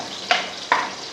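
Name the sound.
garlic sautéing in a pan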